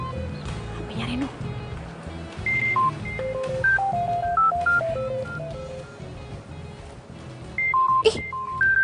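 A mobile phone is dialed, giving a string of short electronic key tones in an uneven rhythm. Background voices and noise continue underneath, and a sharp burst comes near the end.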